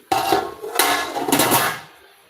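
Metal cooking pots clank and scrape together in a few clattering bursts up close, then the noise fades away.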